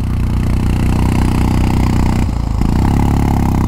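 A touring motorcycle on a Leh Ladakh ride runs loud and close with a steady, chugging engine note. The note briefly drops partway through, then picks back up as the throttle is opened again.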